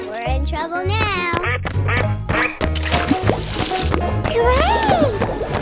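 Loud cartoonish quacks from a duck in a 3D animal slide video game ring out repeatedly over lively game music and splashy sound effects, with excited voices chattering throughout.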